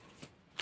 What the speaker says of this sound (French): On va d'abord battre les cartes.